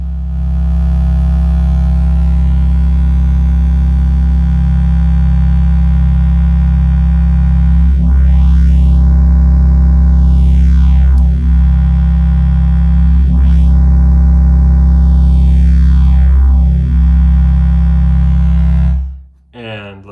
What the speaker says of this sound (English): So now we'll listen to the phaser.